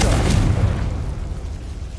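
A single Confringo fire spell explosion in Hogwarts Legacy, a loud booming burst at the start that fades into a rumbling tail.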